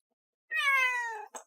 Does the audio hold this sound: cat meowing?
yes